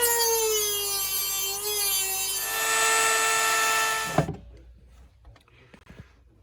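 A power tool grinds and whines steadily, cutting slots through a metal T-bar between holes, pitch shifting slightly, then stops with a clunk, leaving quieter scraping and handling noises.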